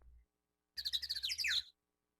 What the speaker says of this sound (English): Birds.